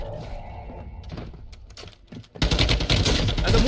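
Gunfire in the mobile shooter Warzone Mobile, a dense loud burst of automatic fire starting partway through after quieter clicks and a muffled voice.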